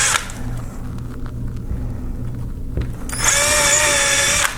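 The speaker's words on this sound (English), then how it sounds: "I'm going to drill a little starter hole for both of them" A power drill whines loudly for over a second near the end, drilling a starter hole in a new window, after a stretch of quieter handling noise and low room rumble.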